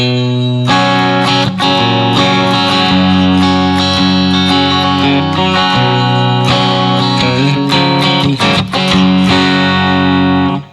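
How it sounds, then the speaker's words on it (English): Loud electric guitar chords and single notes played on the second pickup position with a bright, twangy clean-ish tone, strummed continuously for about ten seconds with no talking. "Now we're going to move to the second position. It's a little more twangy, good for some cleaner stuff."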